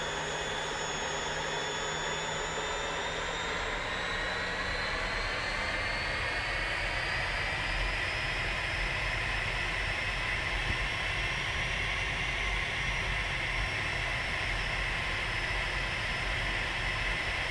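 An L-39 jet engine runs steadily in DCS World, a loud continuous turbine whine and roar with a high tone that rises slowly, close and unbroken, with no voices.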